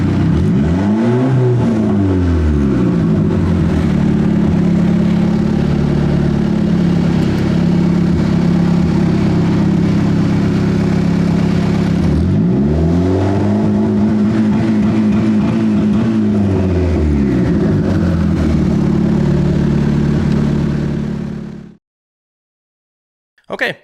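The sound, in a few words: car engine revving while testing launch control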